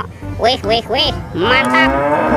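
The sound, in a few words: cow mooing, toy animal sound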